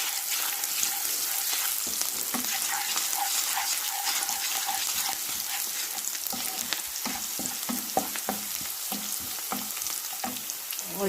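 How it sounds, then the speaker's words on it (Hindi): Onions fry in a pan with hing as the tempering for moong dal, a steady loud crackling sizzle with bursts of stirring and scraping running throughout, no voices. "उनको तड़कने देंगे, उसके बाद हम इसमें डाल देंगे ऑनियन।"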